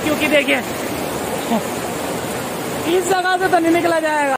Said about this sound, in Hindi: बहुत तेज पानी का बहाव है